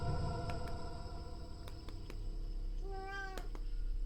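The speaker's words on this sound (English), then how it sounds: "we have a cat that wants to join in too." A single house cat meows clearly near the end, a rising and falling cry over a steady background hum, with no talk.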